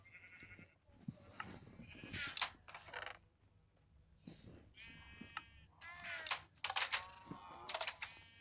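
Minecraft sheep bleat again and again in short, bright wavering calls, some overlapping and close together, with clicks and game sound effects between them.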